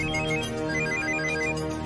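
A phone ringtone sounding for an incoming call, a steady melodic electronic ring, close and alone.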